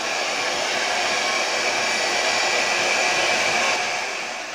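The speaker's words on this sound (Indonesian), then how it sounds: "Habis dikasih obat penguat, di hair dryer lagi." A hair dryer blows steadily on a freshly printed shirt in a clothing workshop, giving a loud, continuous, even whoosh with no talking that eases off slightly at the end.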